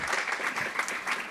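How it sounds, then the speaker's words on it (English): An audience applauds, a dense steady burst of many hands clapping together. "Let's give a round of applause to Kristen and Andrew."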